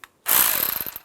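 A ratchet clicks rapidly while tightening screws on the intake manifold of a 2004–2010 BMW X3, one close burst of quick pawl clicks lasting under a second.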